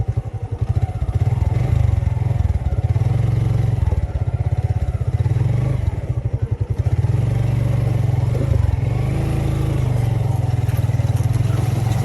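A motorcycle rides off-road along rural village roads near Gazipur, its engine droning loudly and steadily throughout with a close, rumbling low tone and occasional dips as the throttle eases.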